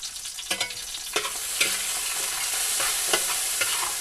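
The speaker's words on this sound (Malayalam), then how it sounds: "നമുക്കിനി ഇതൊന്ന് വെളിച്ചെണ്ണയിലിട്ട് വഴറ്റിയെടുക്കാം" Onions sautéing in coconut oil in a pan for a river-fish dish: a constant loud sizzle, broken by repeated scraping strokes of a stirring spoon at a loose, steady rhythm, with no talk.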